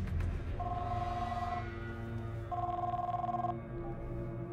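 A telephone rings in two clear bursts with a pause between, loud and close, in a scene from an American action film, with low background sound underneath and no talk.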